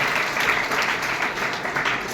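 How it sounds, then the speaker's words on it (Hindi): Children applauding together in a school assembly hall, a steady, dense wash of clapping that holds for a couple of seconds without any clear break. "बस हो गया, ताली बजाओ भाई"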